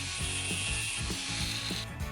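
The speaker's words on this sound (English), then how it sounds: "first you have to remove the nut from the bolt with wrench" Wrench ratcheting as it turns a nut off an anchor bolt, a steady series of close, clicking pawl ratchets repeating about every quarter second.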